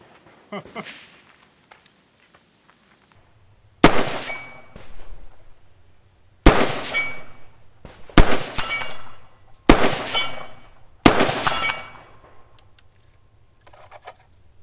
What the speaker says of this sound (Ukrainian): 5 патронів. По гонгу на 100 метрів.